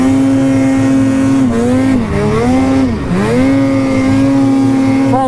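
A motorcycle engine howls steadily while it is ridden downhill on its back wheel through a dirt trench. The pitch dips and climbs again as the throttle is worked, and the engine stays loud and close the whole time.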